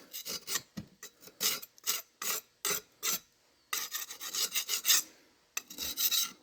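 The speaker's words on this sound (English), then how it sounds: "You just take a scraper," A metal scraper scrapes old, ash-like gasket material off an engine surface in short, rasping strokes, several in quick succession with brief pauses, close and fairly loud.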